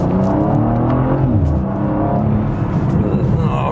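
A BMW M2 G87 accelerates hard on the road, its engine note climbing through the revs as a steady, close, loud drone heard from inside the car.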